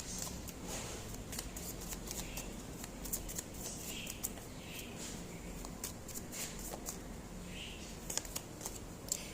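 Tarot cards are shuffled and drawn close and quiet, with soft, repeated riffling and light snapping of the cards, and faint background room noise.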